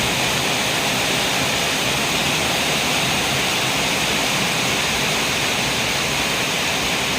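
Heavy rain drums steadily on a corrugated zinc roof in a dense, unbroken roar that stays loud and even from start to finish, with no voices.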